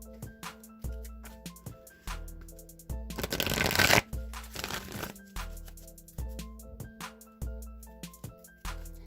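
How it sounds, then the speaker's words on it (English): Oracle cards are shuffled repeatedly in steady, rhythmic riffles close up, with a longer burst of busy shuffling in the middle over faint background music. "Now I'm going to shuffle the Wisdom of the Oracle a few times."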